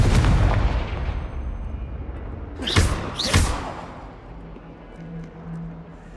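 A Confringo fire spell in Hogwarts Legacy blasts out as a deep boom, followed by two sharp, loud explosive bursts in quick succession that fade into a low rumble.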